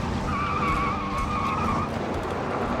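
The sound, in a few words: car braking and skidding during a J-turn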